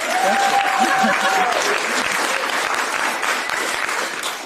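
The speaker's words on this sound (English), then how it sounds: "Yes, let's clap." A crowd applauds a state representative at a political gathering in western Wisconsin, a dense, steady roar of clapping that holds strong and then begins to taper near the end.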